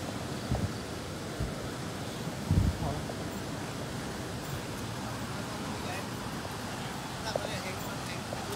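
Swift flash-flood water rushes across a road in Lampang, Thailand, as a steady, broadband roar that holds throughout, with a few brief louder thumps early on and faint background noise.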